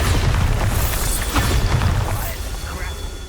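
A Bombarda blasting spell detonates in Hogwarts Legacy with a loud, close, booming explosion that rumbles and slowly fades over a few seconds, with no voices over it.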